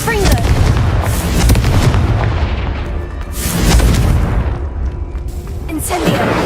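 Confringo explosive spell from the Hogwarts Legacy video game goes off in loud booming blasts that rumble one after another, mixed with a voice speaking over the action.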